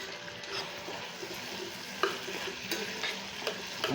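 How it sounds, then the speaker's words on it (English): Okra cooks in a pot for a coconut fish head soup, giving a steady, soft sizzle and bubbling with occasional light clicks of a utensil, close and continuous. "I'm going to let the okras cook, okay, for like 5 minutes"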